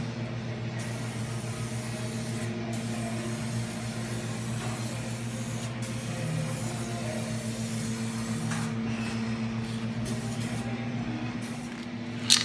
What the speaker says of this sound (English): we got 2 coats of epoxy primer, Spray Max 2K, on all the bare metal surfaces